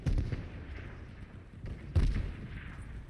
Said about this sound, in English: I might be getting shot at by a person